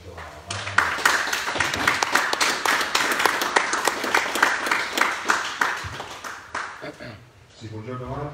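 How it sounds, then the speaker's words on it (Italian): Audience applause at a press presentation welcoming the new coach of Libertas Livorno 1947, steady clapping from a room of people for several seconds, fading toward the end with some voices. "chiedo di fare un applauso"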